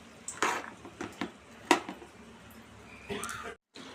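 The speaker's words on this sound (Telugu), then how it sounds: "ఫ్రై అయిన తర్వాత టమాటా, కొత్తిమీర, మెంతి కూర వేసుకోవాలి. ఇలా ఫ్రై చేసుకోవాలి." Utensil clinks and scrapes against a pan while tomato, coriander and fenugreek leaves fry, a few sharp knocks spaced out over a faint background.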